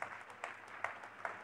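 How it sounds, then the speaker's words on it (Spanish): Brief bursts of applause from a church congregation, a few scattered clapping peaks at a moderate distance with no voices over them. "Aplaudamos a Jesucristo."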